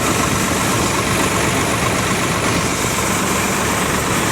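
Sawraj 855 tractor, a 3-speed model, with its engine running steadily at idle, a continuous low, rumbling drone heard close and loud throughout with no talk over it.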